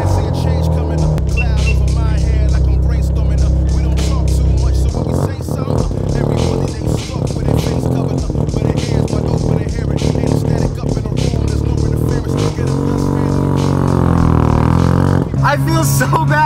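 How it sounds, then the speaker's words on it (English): A modified turbocharged car engine idles with a deep, heavy rumble, then revs repeatedly with rising and falling pitch and a buzzy, rattly edge. Loud and close throughout, ending in one last sharp rev. "this car sounds like, well, now that I think of it, it just sounds like a weed eater"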